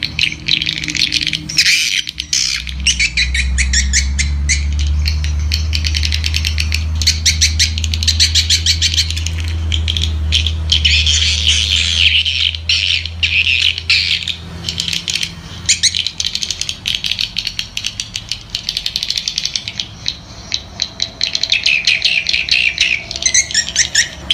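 Swiftlet calls are broadcast from a MEGA HORN HP-4000 horn speaker driven by a BZ11 amplifier to draw birds to a swiftlet house, with dense, rapid chirping and rattling that stays loud throughout over a low hum at the start.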